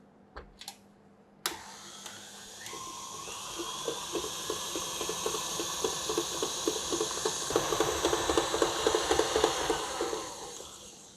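Electric mixer whirs steadily through butter and sugar for eggless butter cookie dough, starting after a couple of clanks, with rhythmic beater ticks and a rising motor hum that grows louder and busier, no talking.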